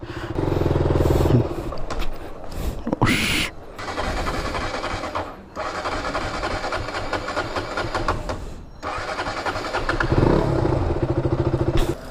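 A KTM Duke 200 motorcycle engine starts and runs, a loud, close, continuous rumble with a few dips and revs, accompanied by mechanical clatter and a brief burst of noise partway through.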